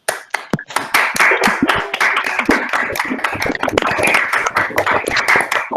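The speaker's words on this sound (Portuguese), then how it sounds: "para a gente agradecer as nossas panelistas aqui com uma salva de palmas" Applause for the panelists at an online women-in-technology event, scattered individual claps from separate microphones building into a dense, close, uneven patter that continues throughout.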